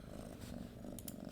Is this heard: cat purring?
yes